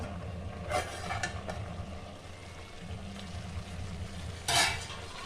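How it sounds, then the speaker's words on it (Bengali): A spatula stirs a cauliflower and green pea kosha curry in a covered pan. A few faint, brief scrapes and clinks sit over a low background hum, quiet and sparse. "নাড়িয়ে নেবো খুলতি দিয়ে"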